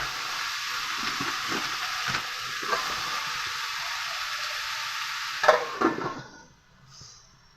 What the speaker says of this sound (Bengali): আবার ভালোভাবে নেড়ে নেব।